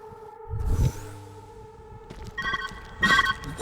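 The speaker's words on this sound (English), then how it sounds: "Where's that ringing coming from?" In the video game Viewfinder, a phone rings, with a few bright electronic ring bursts sounding in short repeating pulses over a low ambient hum, moderately loud with no talk.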